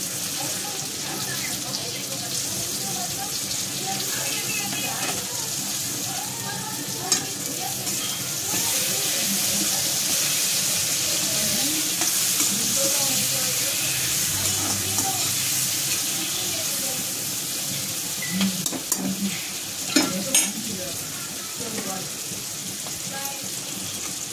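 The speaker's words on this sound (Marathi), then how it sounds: "याला असं फ्राय करून घ्यायचं." Brinjal cooks in a yellow masala, frying with a steady sizzle while a spoon stirs and scrapes the pan, with occasional sharper knocks over about twenty seconds.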